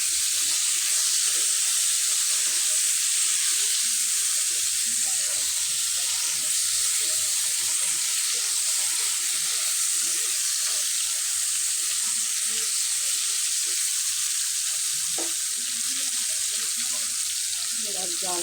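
Pointed gourd slices sizzle and fry steadily in a hot pan, a continuous close hiss with scattered pops and scraping stirs throughout, no talking.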